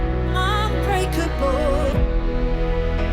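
A five chord resolves to a one chord, played as sustained harmonic music with a melodic line on top, settling onto the final chord near the end.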